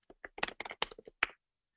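Quick burst of typing on a computer keyboard, about a dozen crisp close keystrokes in an uneven rhythm ending with a firmer key press, then silence.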